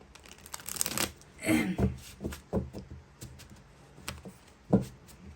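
Tarot cards shuffled and drawn from a deck, quiet bursts of riffling and papery flicks with short pauses between, close and soft with no talk.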